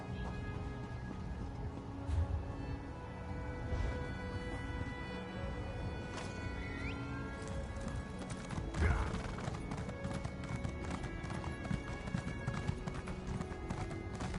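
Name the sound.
horse hooves clip-clopping in a video game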